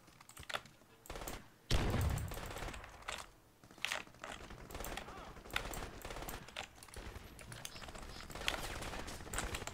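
Gunfire in a Crysis multiplayer match: scattered sharp shots and short bursts over about ten seconds, with clicking keys and someone talking underneath.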